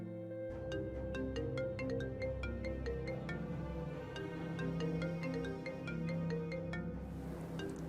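A phone ringtone plays a repeating melodic pattern of quick, bright notes over a steady musical backing during an Indonesian TV drama scene, continuous and moderately loud for several seconds with no voices.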